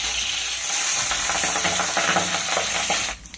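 Steady frying of pabda fish in hot oil gives a dense, close sizzle with small bubbling pops, broken at the end by a short clatter as the sound cuts off.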